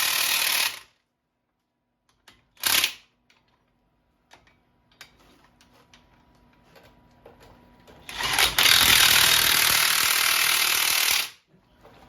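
Ratchet wrench with an extension tightening bolts in a crisscross pattern, heard as short bursts of loud clicking, with a long sustained run of ratcheting near the end and faint mechanical taps in between.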